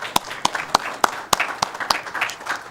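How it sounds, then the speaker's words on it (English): A handful of sharp, spaced claps ring out at a city council meeting, individual hand claps separated by short gaps over a light background murmur. "Let's give her a big round of applause."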